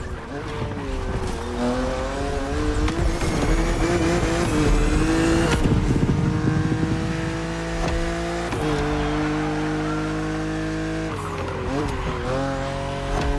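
A BMW Z roadster in The Crew Motorfest drives through a race, its engine note rising and shifting steadily under music-like harmonics, with tire squeals and skids breaking in near the middle and end.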